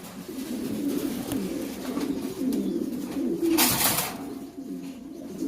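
A loft of Lahore pigeons, including blue-bar and black females, coos in low, rolling, overlapping calls close by, with a brief rustle of wings partway through.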